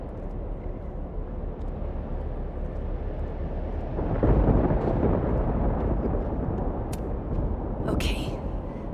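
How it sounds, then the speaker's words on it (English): In the video game Life is Strange: Double Exposure, a thunderstorm rumbles as a low, steady roar that swells into a louder rolling burst midway, then settles back, with a couple of brief sharp clicks near the end. "the storm's not so bad here"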